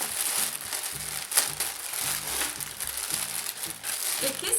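A plastic bag crinkles and crackles in a run of close, irregular rustles while a package is opened, with faint speech in the background.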